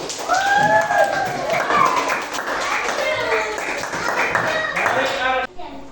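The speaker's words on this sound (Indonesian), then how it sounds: "kita tepuk tangan dulu untuk yang di depan karena sudah berani maju" Classroom of children clapping for classmates standing at the front during a school practical exam, a busy patter of small hands with lively kid voices chattering over it throughout, then stopping abruptly near the end.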